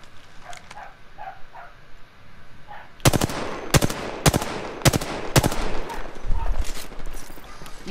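In the Apex Legends game, a quiet stretch gives way to a burst of sharp, loud gunshots in quick succession, about eight cracks over several seconds, with faint game sounds around.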